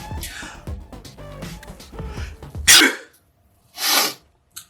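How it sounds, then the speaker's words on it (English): A person talks briefly, then lets out a loud, sharp sneeze nearby, followed by a breathy exhale and a small click. "that was a sneeze."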